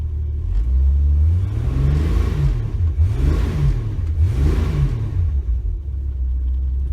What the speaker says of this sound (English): You can hear my poor muffler.